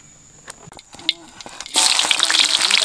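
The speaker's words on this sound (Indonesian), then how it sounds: "Enggak, goreng bawang dulu." Faint clinks and taps in a kitchen, then garlic hits hot oil in a wok with a sudden loud, sustained sizzle.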